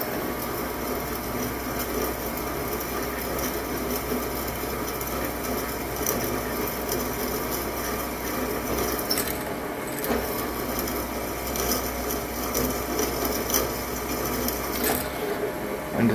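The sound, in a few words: drill bit drilling copper vise jaws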